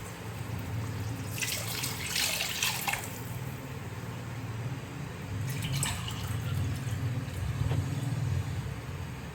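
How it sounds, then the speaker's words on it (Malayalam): A pour of water into a pan of beetroot in two short gushing bursts over a low steady background hum, close by, with no speech. "അത്രയും തന്നെ വെള്ളം ഒഴിച്ചു കൊടുക്കുന്നുണ്ട്"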